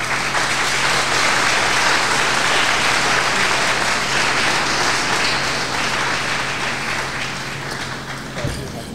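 An audience at a philosophy lecture breaks into dense, sustained applause that fills the room loudly and steadily, then thins slightly toward the end, with a low hum beneath it.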